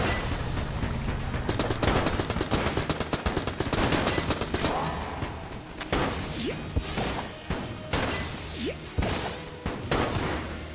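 Dense, loud gunfire from the video game Enter the Gungeon: rapid automatic bursts and repeated shots with crashing impacts, almost nonstop across the whole stretch.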